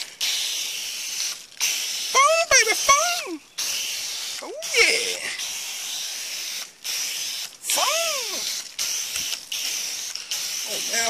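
A foam gun spraying Meguiar's car wash soap hisses in repeated bursts of several seconds each, separated by short pauses, while someone talks excitedly over and between the sprays.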